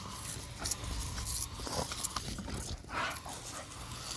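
Several American Bully dogs pant and scuffle at close range in a garden after running and jumping in water from a hose, with irregular breathy bursts and small bumps over steady outdoor background noise.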